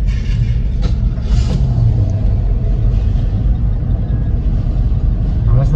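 A Ford F150 pickup engine idles with a loud, steady low rumble close by, running unevenly with a fault that makes it keep cutting off, while voices talk faintly over it.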